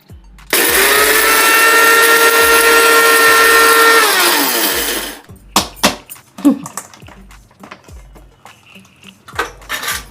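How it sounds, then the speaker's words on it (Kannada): A mixie grinder whirs loudly and steadily for about four seconds, grinding tamarind and spices into temple-style puliyogare paste, then winds down into clattering of the jar and utensils. "ಇದನ್ನ ಮಿಕ್ಸಿ ಮಾಡ್ಕೊತೀನಿ ಫಸ್ಟ್ ಇದಿಷ್ಟು ಮಾಡ್ಕೊಂಡು ಮಾಡ್ಕೊತೀನಿ"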